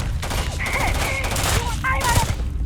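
Gunshots in the video game Starfield, a volley of sharp cracks fired in bursts amid game sounds and tonal effects, fairly loud and near, with no speech over them.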